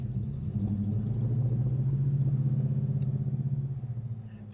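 A 1971 Plymouth Duster Hardtop engine turns over and settles into a steady, loud low rumble close by, holding strong for several seconds before easing slightly, with no talking.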